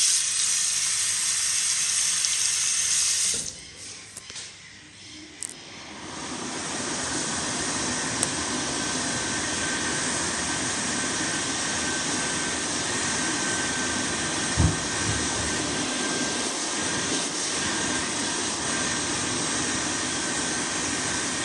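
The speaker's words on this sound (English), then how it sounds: "It's a bit slow, but it's a good hand dryer." A Bobrick Elan electric hand dryer in a Melbourne zoo restroom blows with a steady loud whooshing roar, briefly cutting out before restarting and running continuously.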